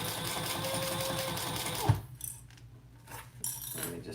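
A sewing machine runs fast and steady up close for about two seconds, then stops, leaving light clicks and metallic handling sounds of fabric and a D-ring.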